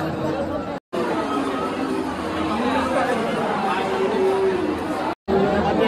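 Passengers chatter loudly on a packed red state transport bus, many overlapping voices forming a dense babble close by, with two brief dropouts into silence.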